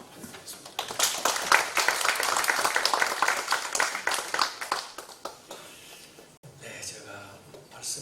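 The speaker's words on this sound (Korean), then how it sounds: "우리 한 목사님 박수로 환영하겠습니다." Audience applause welcoming a pastor and vice moderator to the pulpit at a church denomination forum, a broad sustained clapping that swells and then tapers off over several seconds.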